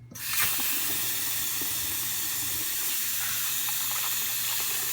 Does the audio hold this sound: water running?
yes